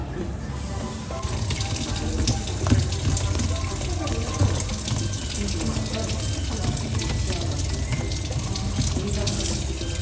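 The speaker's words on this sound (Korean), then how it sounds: "이럴 때는 개수대 물 더 갖고 오셔가지고 부어주면서 머드팩 되기로 맞춰볼게요" Water from a sink poured steadily into a bread dough mixture for a butter-top loaf, a continuous close gushing splash that runs for about ten seconds.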